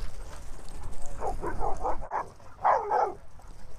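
A Siberian Husky gives several short, muffled barks and yips in quick succession over a low rumbling background, moderately close.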